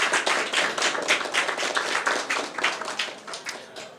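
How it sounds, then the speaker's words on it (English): An audience at a graduation ceremony claps for a man being introduced, a dense, steady round of applause with many hands beating close together, fairly loud and continuous without any voices. "Can we have a round of applause for Joe?"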